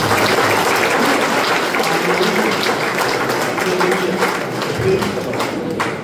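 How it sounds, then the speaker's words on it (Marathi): A church congregation claps together in a loud, continuous, even patter that runs throughout, with a faint murmur beneath the clapping. "आपण टाळ्या वाजवू"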